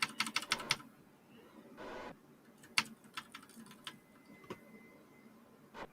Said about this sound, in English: if you hear my keyboard going bananas